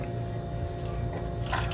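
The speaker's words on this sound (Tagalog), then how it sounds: "Para mahalo po ng mabuti ay lalagyan ko po ng tubig." Water is poured into a coating batter for crispy kangkong chips, making a soft, steady trickle and splash with a brief brighter burst near the end, fairly quiet and close, with no talking.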